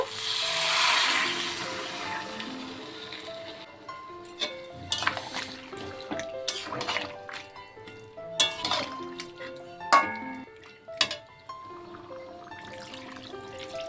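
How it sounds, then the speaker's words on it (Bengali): Water poured into a pan of mutton and potato curry, a trickling, splashing pour near the mic, followed by clinks and knocks of a utensil against the pan. "এখন আমি জল দিয়ে দেব।"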